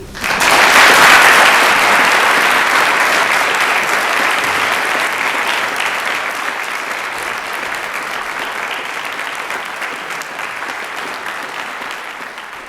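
Big round of applause from an audience at a peace oratorical contest, honoring the finalists; dense, sustained clapping that starts loud and slowly tapers over about thirteen seconds.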